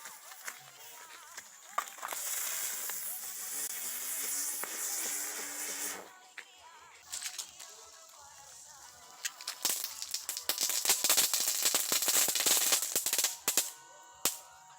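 Traque palito firecrackers lit at a São João celebration: a fuse hisses steadily for several seconds, then a stretch of rapid, crackling pops and bangs of varying loudness, with a few scattered snaps and rustles.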